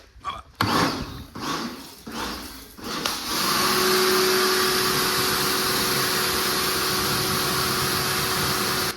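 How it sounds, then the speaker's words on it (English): A pressure washer rinses a Toyota Hilux, starting after a few thumps and knocks and then holding a loud, steady hissing spray up close. "Now I'm going to take the pressure washer, we're going to rinse it off."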